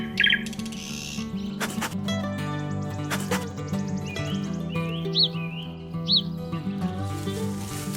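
A honeyguide bird calls over a dense wild soundscape, with a couple of short rising chirps standing out midway through, all set over a steady low rumble and layered background noise.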